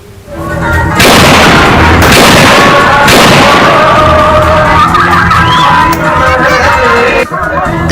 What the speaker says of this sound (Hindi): मोतिहारी में विवाह समारोह के दौरान नॉन स्टॉप फायरिंग हुई।